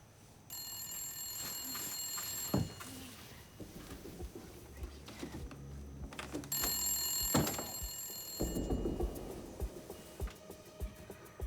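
An old-style telephone bell rings in two long bursts separated by a pause, bright and insistent, over a low dramatic music bed in a quiet home at night.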